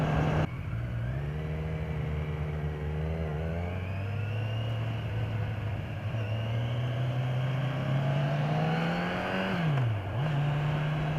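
A 2015 Kawasaki Z1000 naked motorcycle on a test ride, its engine note climbing steadily in pitch under acceleration, then dipping sharply for a smooth gear shift near the end before pulling again, loud and close with constant wind rush.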